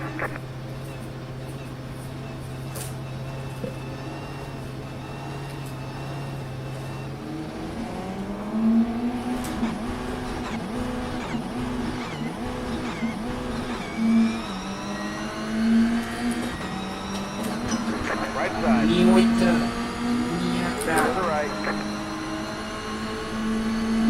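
Race car engine in the iRacing sim, driving quick laps: a steady drone that climbs into rising, shifting revs, loud and continuous throughout with gear changes and no talk.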